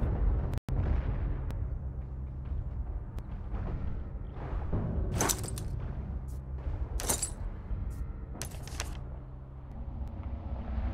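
Cannon fire and explosions in a video game battle: a dense, rumbling barrage with several sharp, bright blasts punching through at intervals, loud and close, with no voices.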